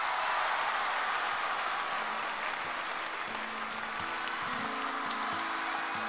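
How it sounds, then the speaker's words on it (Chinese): A studio audience at a televised singing competition applauds the challenger on stage, a dense steady wash of clapping throughout, with faint tonal music rising beneath it in the second half. "再次把掌声送给挑战的马龙"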